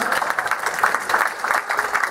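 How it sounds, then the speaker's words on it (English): A live audience at a stage competition event claps for a contestant, dense continuous applause with rhythmic fluttering peaks, close and fairly loud. "Can you get a big round of applause for AJ Young?"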